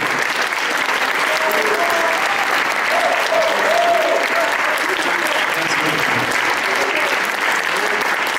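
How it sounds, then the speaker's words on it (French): A crowd applauds at length during a singing performance, a loud, even wash of clapping with faint voices calling out over it. "continuez d'applaudir"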